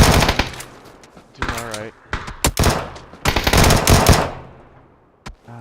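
Automatic gunfire from the PUBG video game on the Sanhok map, loud bursts of rapid shots interrupted by short gaps, with a sharp single crack near the end and a voice speaking briefly between bursts.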